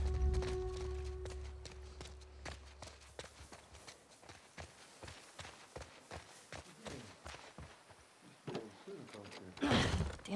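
Horse hooves clop on hard ground in The Last of Us Part II, a steady run of uneven footfalls under a low hum, ending in a louder scraping burst.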